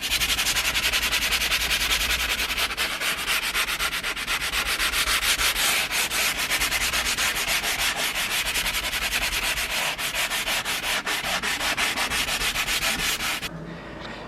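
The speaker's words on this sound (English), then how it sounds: "So the first job on that is sanding it, so let's get on with that." Continuous abrasive sanding on the interior seat bolster of a Porsche 996, a close, steady rasping rub that runs without pause for nearly the whole stretch before cutting off abruptly at the end.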